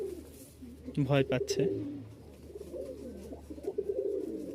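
Male Rajshahi Giribaz pigeons coo nearby in a few deep, throaty bursts, with someone speaking softly between the calls.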